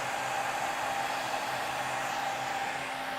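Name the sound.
thickness planer cutting a wooden board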